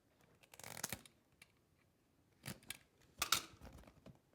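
Scissors cut through duct tape for a handmade barrel bag: a few separate close, crunchy cutting bursts with short gaps between them, faint and without talking.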